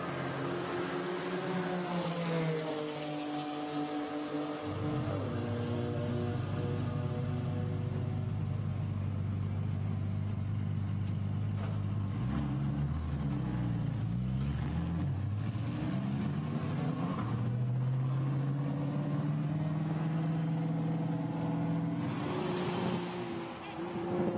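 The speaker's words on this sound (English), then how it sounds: "So the field out onto the circuit" GT4 race cars heading out onto the Spa circuit during qualifying, engines droning and shifting pitch as cars pass one after another, a continuous rumble with a commentator talking over it.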